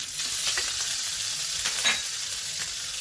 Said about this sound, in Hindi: अब हम इसमें अदरक डाल देंगे कसी हुई